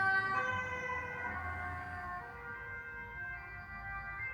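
A police car siren wails as it passes on a road in very hot weather, a loud, steady, high-pitched tone over traffic rumble that slowly fades as it moves away.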